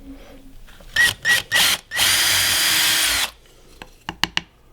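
A power drill whirs in short bursts, then bites into wood with a longer, rough grinding spin, followed by a few light taps and clicks.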